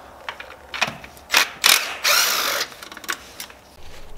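A hand ratchet backing out 10 mm bolts from a coil pack bracket on a 4.8 LS Silverado engine, heard as close clicking and whirring bursts with short gaps between them.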